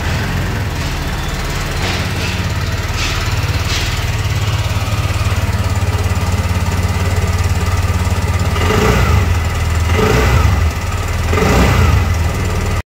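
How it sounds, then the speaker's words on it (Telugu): A TVS Jupiter 125 scooter runs with a steady, close engine and exhaust drone at idle, then picks up with a few throttle blips near the end. "ఈ స్కూటర్ ఒక ఎగ్జాస్ట్ నోట్ అనేది వినిపించి"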